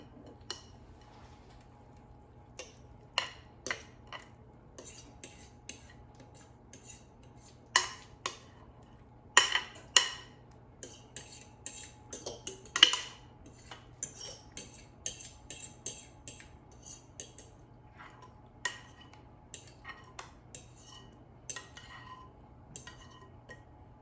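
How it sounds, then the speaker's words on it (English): A cornbread casserole mixture is scraped from a bowl into a baking dish, heard as scattered sharp clinks and taps of a utensil against the dishes, irregular and fairly close, over quiet background hum. "And now let's transfer it to our baking dish."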